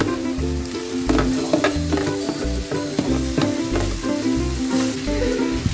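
Grilled pork sizzling and frying in a hot pan for sisig, a steady loud crackle with repeated stirring scrapes and knocks throughout, no voices.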